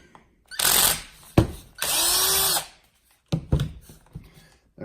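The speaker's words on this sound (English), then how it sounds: "So what we're gonna do is pop these screws out." Screws being driven out of a Losi 8ight-T RC truck with a power driver, two sustained whirring bursts near the mic followed by sharp clicks and small metallic rattles of parts being handled.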